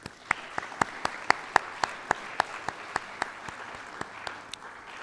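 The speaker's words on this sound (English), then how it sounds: "Let's give him another round of applause." Audience applause at a Marion Harding High School National Honor Society ceremony: a run of crisp, evenly spaced claps over a low room murmur, steady at moderate volume for the whole stretch.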